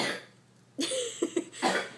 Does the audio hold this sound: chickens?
no